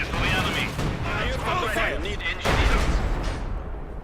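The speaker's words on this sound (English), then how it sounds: "The howitzer continues to hit nothing." Artillery in Company of Heroes 2 booms over a battlefield soundscape, with a heavy howitzer-style blast about midway amid scattered gunfire and a commentator talking throughout.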